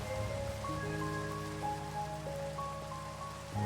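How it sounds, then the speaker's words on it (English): Steady rain falls in the game Minecraft, a soft continuous patter with gentle game music tones drifting above it and no voices. "and it's raining."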